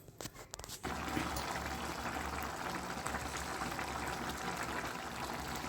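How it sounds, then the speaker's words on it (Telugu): Rice boiling in a pot of water for egg biryani, a steady bubbling simmer that continues evenly throughout after a brief clatter at the start. "వాటర్ మంచి మరిగాక రైస్ వేయాలి ఉడుకుతా ఉంది రైస్"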